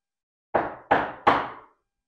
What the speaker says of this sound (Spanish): Sonó la puerta.